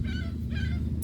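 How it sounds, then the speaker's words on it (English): Seagulls calling while being fed, two loud squawking cries close by over a steady low rumble of background noise. "My daughter likes to feed the seagulls."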